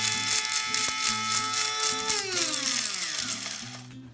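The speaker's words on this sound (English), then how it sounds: "I'm going to grind my coriander seed and white peppercorn" An electric spice grinder whirs steadily as it grinds coriander seed and white peppercorn for homemade Thai red curry paste, a close, continuous motor drone with a pitch that drops and shifts as the seeds break down, heard alone without voices.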